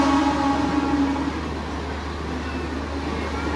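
The Diva-Vasai MEMU train runs along steadily with a low rumbling drone and a faint tonal whine that fades after the first second.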